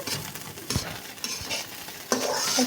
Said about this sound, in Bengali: প্রথমে ঝাল, পেঁয়াজ, রসুন দিয়ে চালটাকে খুব ভালোভাবে ভেজে নিলাম তেলের মধ্যে